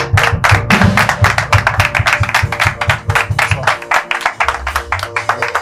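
Audience clapping in rhythm at a live evening stage show as a singer comes on, loud regular beats of hands with music underneath, slowing near the end.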